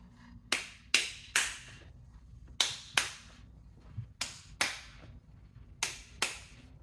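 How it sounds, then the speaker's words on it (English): One person claps hands along to a song, about a dozen sharp, close claps falling in loose pairs and singles over a quiet, low background hum. "I'm clapping to the song"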